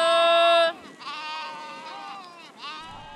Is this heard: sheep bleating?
yes